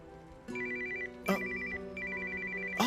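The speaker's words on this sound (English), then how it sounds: "Oh, the phone!" Telephone ringing in an anime scene, a repeating electronic ring tone in short bursts over quiet background music, three rings with brief gaps.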